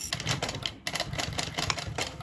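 A sewing machine fitted with a walking foot stitches a zipper on a pouch, a fast, close, steady mechanical clatter with a brief pause partway.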